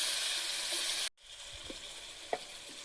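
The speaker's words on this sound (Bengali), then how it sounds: "তাহলে আলুগুলো ভাজতে দেবো।" Potatoes frying in hot oil with salt and turmeric in a home kitchen, a steady bright sizzle that cuts out briefly, then resumes more quietly with a few soft stirring knocks and pops.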